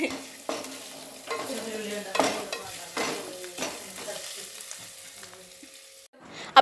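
Ginger and garlic fry in a pan for a masala egg dish, hissing under repeated scraping stirs and utensil clinks, ending with a sharp metallic clank.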